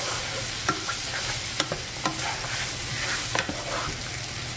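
Lentils and chickpeas tossed and stirred in a curry pan, with a steady frying hiss broken by several sharp scrapes and clacks of the spoon against the pan, close up and without talk.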